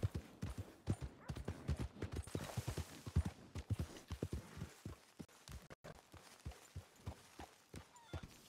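Horse hooves clip-clopping in Red Dead Redemption 2, a brisk, rhythmic run of close hoofbeats that thins to slower, sparser steps toward the end.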